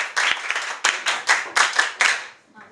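A classroom of pupils claps for a classmate, a burst of uneven hand claps in several swelling waves that fade out near the end, fairly close.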